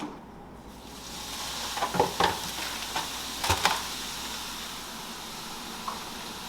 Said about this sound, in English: whenever I lay the meat in the pan, I like to just chop it up as much as possible